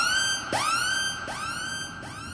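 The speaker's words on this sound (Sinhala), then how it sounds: "මම තව එකට මෙන්න මේ වගේ කිල් බිල් සයිරන් එකක් ඇඩ් කරගත්තා" A Kill Bill–style siren effect layered into a beat built from sampled old keyboard sounds, with three rising-then-falling sweeps, each fainter than the one before, sounding alone without talk.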